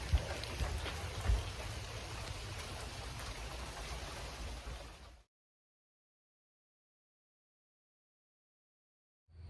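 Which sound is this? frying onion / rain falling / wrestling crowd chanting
rain falling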